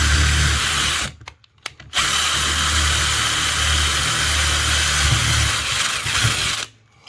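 A drill whirs steadily at high speed while boring into a luxury vinyl plank floor, cutting out briefly twice and stopping near the end, close and loud.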